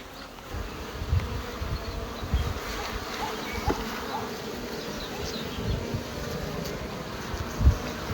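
Honeybees buzzing at an apiary on a sunny day, a constant dense hum of many bees with occasional individual insects passing close.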